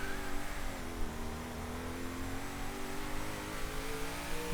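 In a driving video game, a car's engine note climbs steadily as it accelerates up to speed, a sustained rising drone that runs throughout with no talk over it.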